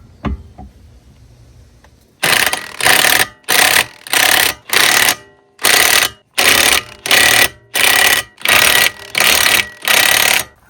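Impact wrench bursts threading lug nuts onto Rusch wheels on a C8 Corvette, about eleven sharp, loud buzzing rattles in steady rhythm after a brief quiet start, close up with no talk.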